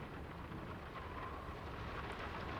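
Steady, dense rain hisses with a low thunder rumble in the stormy night of Graavik, a Norwegian village in the video game Draugen, continuous and fairly faint with no voices.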